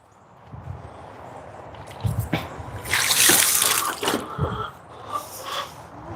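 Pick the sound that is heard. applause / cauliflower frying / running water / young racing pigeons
running water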